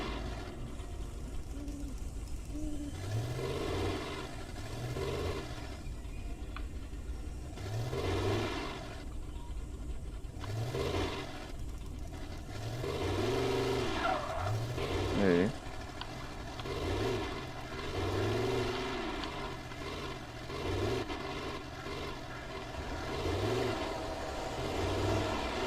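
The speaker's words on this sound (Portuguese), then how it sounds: "Pô, acabei o carro." Car driving in the Alan Wake video game, a steady engine rumble with repeating pitch swells as it moves, and one sharp loud impact near the middle where it crashes.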